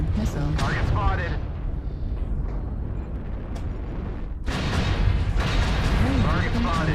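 Missile explosions and heavy weapon booms rumble through a MechWarrior Online battle, deep and continuous, with tonal game alert sounds over them and a louder burst of impacts near the end.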